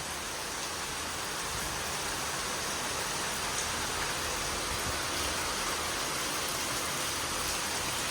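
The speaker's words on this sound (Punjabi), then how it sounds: "ਫੁੱਲ ਸਪੀਡ ਨਾਲ ਮੀਂਹ ਆ ਬਾਈ ਫੁੱਲ ਸਪੀਡ ਨਾਲ" A steady, loud, wind-driven downpour hisses without pause, dense and close, with no voices over it.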